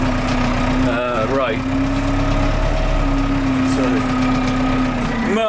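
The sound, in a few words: old tractor engine running with muck spreader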